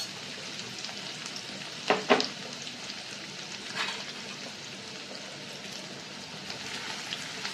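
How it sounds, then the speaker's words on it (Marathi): Chopped onion with crushed ginger and garlic frying in oil for veg pulao, a steady soft sizzle with a few sharp scraping stirs near the start and middle. "आणि कांदा चांगला गुलाबी रंगापर्यंत तळून घ्यायचा."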